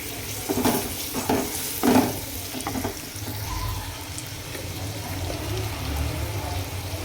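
Tomatoes stirred into dal tadka in a pan over a low flame, with a few loud scraping and stirring strokes early on, then a steady soft sizzle and bubbling close by, no talking.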